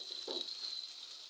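Meat with onion and garlic frying together in a pot for okra stew, giving a soft steady sizzle with a brief stir around the start.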